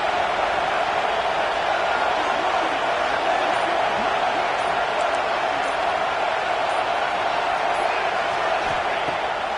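A football game crowd roars on fourth down, a dense, steady wall of cheering and noise that holds evenly throughout, loud and continuous.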